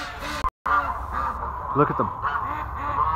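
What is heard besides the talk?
ducks quacking heading into the barn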